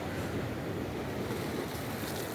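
Sea waves and wind on open water while boating at sea off Dubai, a steady, continuous wash of surf and breeze noise without talk.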